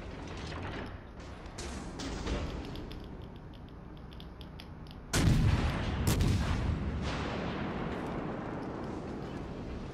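Warship guns boom in the video game World of Warships: Legends, with HE shells being fired in low rumbling blasts, including a sharp heavy volley midway, under game noise and faint talk.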